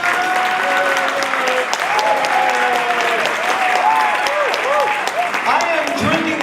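A crowd applauds steadily and loudly throughout, dense sustained clapping with some whoops and cheers rising over it, holding an even level to the end.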